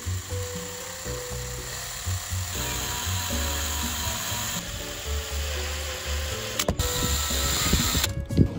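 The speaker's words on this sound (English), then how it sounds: "now I need to drill like a hole in it" A small drill bores a hole through a cut piece of old CD, a close whining motor hum that steps up and down in pitch, followed by brief clattering handling noises near the end.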